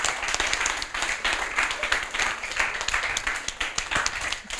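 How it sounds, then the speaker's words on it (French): A room full of people clapping for a child who has just read aloud, a sustained burst of applause with some voices mixed in underneath. "On l'applaudit hein"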